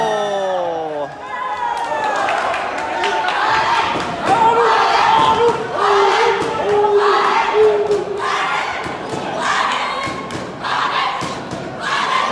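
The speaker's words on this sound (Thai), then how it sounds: "กองเชียร์ค่อนข้างจะเยอะนะครับ" An amateur international-style boxing bout draws a lively crowd that shouts and cheers in rising bursts, while a commentator talks excitedly over the noise.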